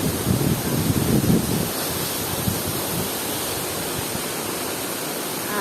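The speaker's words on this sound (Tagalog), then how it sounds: "talon" A waterfall in a natural outdoor setting gives off a steady, broad roar with a wind-blown rush, heavier during the first couple of seconds and then settling into an even wash.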